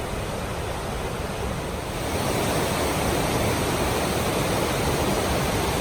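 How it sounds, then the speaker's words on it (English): A river in full spate near Dunans Castle in Scotland rushes as a loud, steady broadband roar of water that grows slightly louder partway through, with no voices. "there you can hear the river, which is in full throat"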